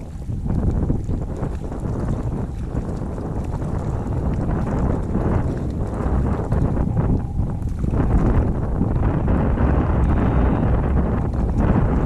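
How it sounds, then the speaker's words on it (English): Steady, loud wind buffets the microphone at Prosser Creek Reservoir near Truckee, California, a continuous roaring rush that swells and eases slightly throughout with no talking. "The wind came up."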